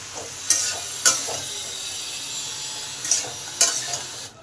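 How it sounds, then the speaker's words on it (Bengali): Vegetables with salt and turmeric for Bengali labra are sautéed in a pan, a quiet steady sizzle broken by four sharp spatula scrapes in two pairs. "এবার সব কিছুকে ভালো করে কষে নেব।"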